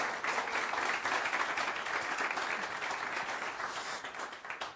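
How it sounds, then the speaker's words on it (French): An audience applauds a jury member at a startup demo day in Montpellier with continuous, fairly loud clapping from many hands for about five seconds. The clapping thins and turns patchy toward the end, and no voices are heard. "On peut l'applaudir, s'il vous plaît"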